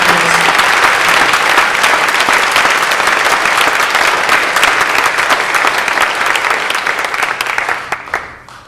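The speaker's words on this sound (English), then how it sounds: "She really deserves a round of applause." A crowd at a live folk music concert applauds loudly, dense clapping that holds steady and then tapers off toward the end.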